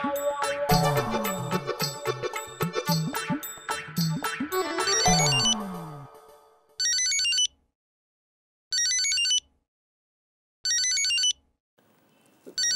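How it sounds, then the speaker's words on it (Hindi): A phone ringtone plays a busy jingling melody, then repeats as short regular bursts of electronic ringing separated by silence. "मेरे उच्च अधिकारी का फोन है।"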